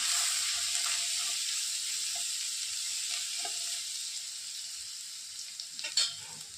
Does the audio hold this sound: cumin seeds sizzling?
yes